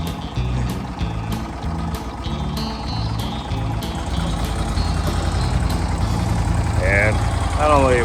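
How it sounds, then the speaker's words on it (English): A longtail mud motor runs on a boat in shallow backwater, a steady close engine drone under someone talking, with high whining tones near the end. "No mud motor, and we don't get through this."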